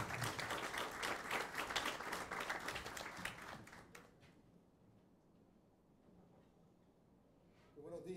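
A crowd at a hospital's liver transplant program anniversary celebration claps in a lively burst that fades out after about four seconds into a quiet room, then a speaker's voice begins near the end.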